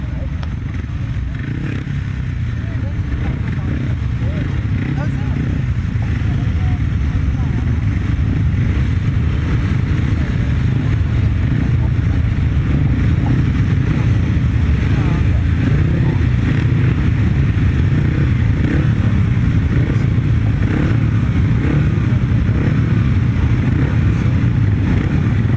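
Upright solo grasstrack motorcycles idle and rev on the start line at a championship meeting, a loud continuous engine roar with rising and falling throttle that runs the whole time, with a tannoy announcer talking over it.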